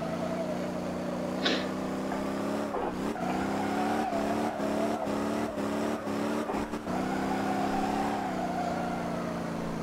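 A car engine in the Motor Town video game revs hard through a drift on a race track. The steady high drone dips repeatedly during gear changes, with a brief tire squeal.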